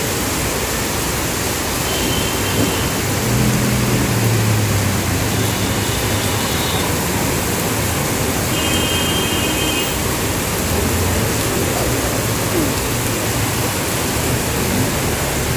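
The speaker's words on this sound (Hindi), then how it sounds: "बारिश आ गई है" Steady rain falls outdoors as a dense, even hiss across the whole stretch, loud and unbroken, with faint tonal traces of distant sounds underneath and no talking.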